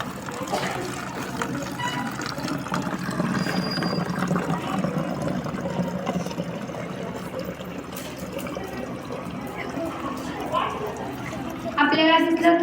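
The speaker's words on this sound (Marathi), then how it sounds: "त्यात आपण रंगीत पाणी करूया व आपण बॉटलीमध्ये रंगीत पाणी टाकूया." Coloured water is poured from a mug into a plastic bottle, a faint trickling and filling sound heard under background murmur and voices throughout.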